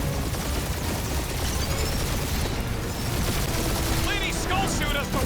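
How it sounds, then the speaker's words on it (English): Sustained weapon barrage in the Guardians of the Galaxy video game, a dense, loud wall of rapid gunfire and explosions running throughout with chatter layered over it. "Keep up the barrage."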